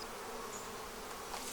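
Honey bees swarm over an open beehive as it is tipped to check its weight, making a dense, continuous buzzing hum that stays loud and even from start to finish with no voices.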